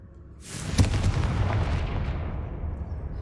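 A Confringo blasting spell goes off in a Harry Potter video game: a single loud boom with a sharp crack that rolls into a long, rumbling roar, alone without talk.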